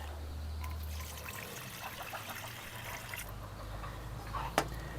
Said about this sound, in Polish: Do tej butelki wlewam szklankę wody.